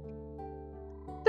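A frog in the Kamaeru video game gives a short tonal croak that shifts pitch slightly, clean and close against a quiet background.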